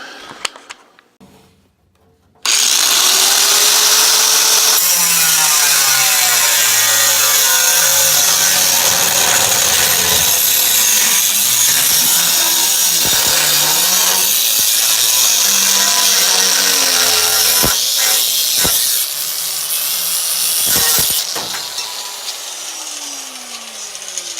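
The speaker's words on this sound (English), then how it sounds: "now I just got to pull out the grinder and mark them and chop them" A loud, continuous power-tool whine of a grinder cutting through metal, harsh and sustained for most of the clip, with brief pauses and a steady hiss.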